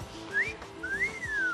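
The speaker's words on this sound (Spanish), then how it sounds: "un músico especializado en el silbido" A person whistles a short melodic phrase, clear and close, with sliding pitch rising then gently falling.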